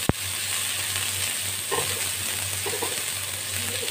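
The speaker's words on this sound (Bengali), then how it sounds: "পেঁয়াজ কুচিগুলো সামান্য একটু আগে আমি নেড়ে নিই।" Chopped onions for a paneer sandwich sizzle steadily in a pan over a low background hum, with a sharp knock at the start and a few light stirring scrapes.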